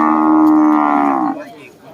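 A cow moos once with a long, loud, close low call at a Thai cattle market, fading out after about a second and a half.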